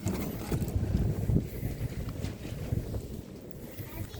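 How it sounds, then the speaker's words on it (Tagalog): Gusty wind buffets the microphone outdoors beside a pile of firewood being readied for a campfire, a steady low rumble swelling and easing throughout with no clear talk. "Mahangin nga lang."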